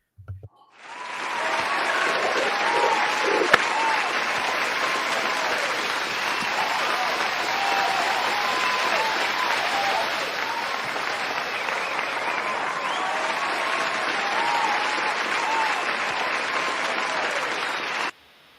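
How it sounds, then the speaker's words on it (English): Round-of-applause sound effect played during a sports podcast, a dense, steady crowd clapping and cheering at even loudness for about seventeen seconds before cutting off abruptly. "I'm going to play the round of applause for him real quick"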